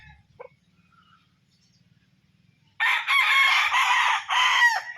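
Fighting cock crowing loudly and close in a single drawn-out call with a short break, following a quiet stretch with faint low rustling.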